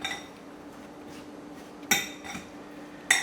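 Bacon, potatoes and onions are stirred together in a bowl with a metal utensil, giving soft scraping and a few sharp clinks of metal against the dish, quiet and close with no talking.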